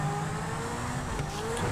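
A Lamborghini engine in the GTA V video game drones steadily at high revs, holding a continuous loud whine with a slight lift near the end.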